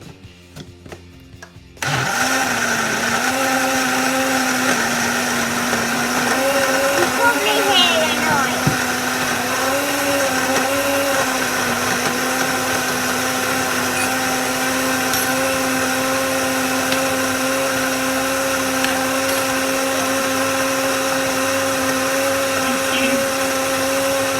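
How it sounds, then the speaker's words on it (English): A blender purees hot red cabbage into liquid, starting with a sudden loud motor whine that holds steady for over twenty seconds, its pitch dipping and wavering briefly as the load shifts. "once that's all blended up, what we're going to do is just sieve it through"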